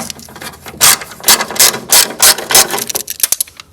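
A ratchet wrench spins a 10mm nut off a ground wire in a Porsche 914's wiring. Loud, close bursts of rapid pawl clicking come in several repeated strokes, each a short rattling run.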